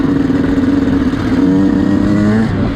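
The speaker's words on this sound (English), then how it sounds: "gotta warm up the bike" A Yamaha YZ 125 dirt bike engine idles and warms up at close range, with a steady, slightly rising drone and mechanical clatter that continues throughout, with no talking.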